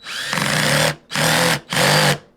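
A handheld power drill pressing a screwdriver bit into a screw, its clutch slipping at the set torque, gives three loud whirring bursts with brief pauses between them, each carrying a ratcheting clatter.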